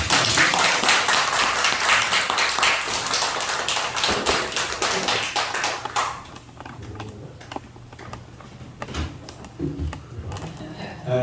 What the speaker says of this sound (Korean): 박수를 한번 합니다